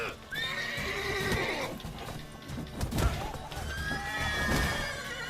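A horse neighs loudly with shrill, wavering whinnies, first near the start and again later, over hoof clatter and thuds in a fight scene from a fantasy series.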